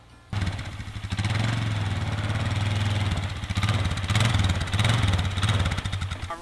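A greens roller's small engine fires up on the first pull and settles into a steady, loud, close putter with a slightly uneven pulsing beat and brief rises in revs, with no talking over it.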